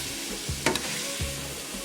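Oxtail rasta pasta sauce with Scotch bonnet sizzles steadily in a pan while being stirred, with a couple of soft utensil knocks against the pot partway through.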